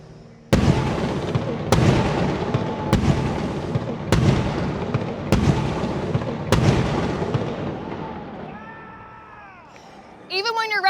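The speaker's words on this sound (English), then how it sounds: "We're good down on the fire ship, cannon fire." Cannon fire from the fire ship at a Buccaneers football stadium, six loud booming blasts at steady intervals with long rumbling decay, followed by voices at the end.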